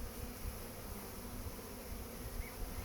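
A modest honeybee colony hums during a hive inspection of a swarm, a faint, continuous, close-up buzzing that wavers slightly in level with no voices.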